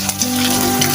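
Thin beaten egg frying for Chinese fried rice, a steady loud close sizzle with a faint stirring scrape, no voices.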